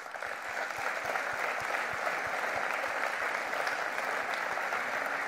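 An audience at a political party's founding congress in Seine-et-Marne applauds steadily and loudly, a dense, even clapping that fills the hall without pause.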